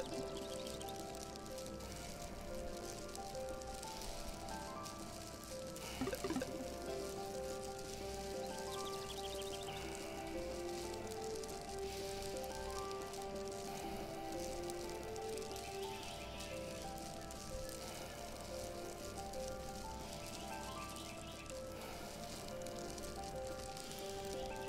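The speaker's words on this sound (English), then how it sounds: "Sizzling of all those wings is indicative of the number of dragonflies around." In the insect game Drunk On Nectar, a swarm of dragonflies' wings makes a steady, dense sizzling hiss that runs throughout at low level, with faint tonal sounds layered beneath.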